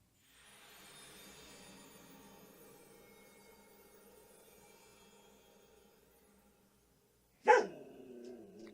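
A dog in Legend of Zelda: Breath of the Wild gives one sharp, close bark near the end, after several seconds of faint low humming background.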